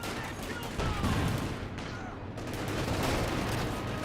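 Sustained MG42 machine gun fire rattles in a Company of Heroes 2 battle, a dense, loud continuous stream of bursts mixed with wider combat noise filling the whole stretch.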